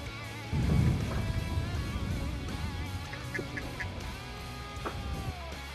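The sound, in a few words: ducks calling near a duck hunting blind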